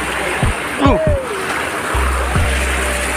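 River water flows down from upstream in a steady rushing wash, with splashes and a voice talking over the running stream close by.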